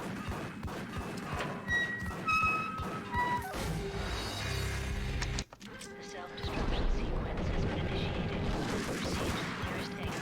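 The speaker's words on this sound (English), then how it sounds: "Are they shooting into the window?" Rapid bursts of gunfire from the Max Payne video game crackle through busy game sound, with impacts and thuds, a brief dropout near the middle, then more shooting and clatter.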